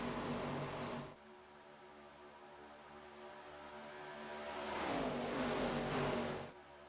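ARCA Series stock cars racing in a tight four-car draft on an oval, engines droning loudly and steadily, then rising to a louder, higher roar as a pack sweeps close past before dropping away.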